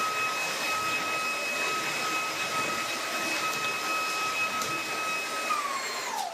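Cordless battery vacuum cleaner running on boost mode over a hard floor, a loud steady motor whine with sharp high tones, alone, ending with a falling pitch as it winds down.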